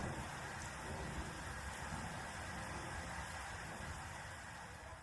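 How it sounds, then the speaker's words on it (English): Steady heavy rain hisses continuously while low thunder rumbles beneath it, with no voices present. "I've never seen a storm come out of nowhere like this"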